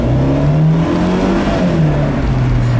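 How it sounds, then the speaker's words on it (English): A 2017 Fiat 124 Spider Lusso accelerating, its engine note rising and falling in a steady, loud drone heard from inside the car, with no talking. "Another little acceleration there."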